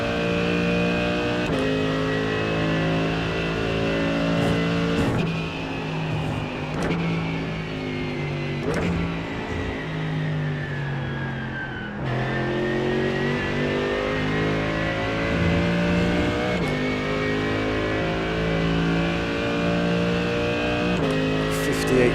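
A GT3 race car circles Silverstone in the iRacing sim game, its engine revving hard and climbing through the gears with brief drops at each upshift, loud and continuous.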